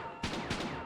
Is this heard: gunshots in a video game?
yes